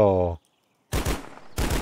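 Gunfire in the first-person shooter video game Karma: a short, loud burst of rapid shots, a pause, then a second burst. A voice sounds briefly just before the shots.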